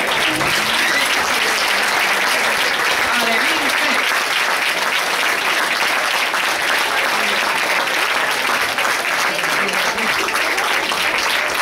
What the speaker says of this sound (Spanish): Un fuerte aplauso para él también.